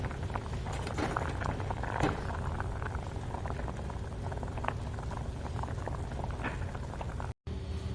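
Dumpling soup boiling in meat broth, a steady bubbling and popping simmer close by that runs for several seconds with no talk, cutting out briefly near the end.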